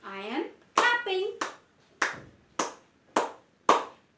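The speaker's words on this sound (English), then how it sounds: "I am clapping." A teacher claps her hands in a lesson: a voice speaks first, then six sharp single claps follow at a slow, slightly uneven pace, close and clear.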